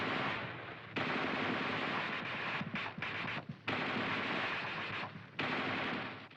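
A tank's coaxial machine gun fires sustained bursts of roughly 20 to 25 rounds: loud, dense automatic fire, with brief gaps between bursts and no voices.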